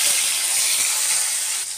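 Whole spices tempering in hot oil in a kadai give a steady, bright sizzling hiss that holds even and close throughout, with a slight dip at the very end.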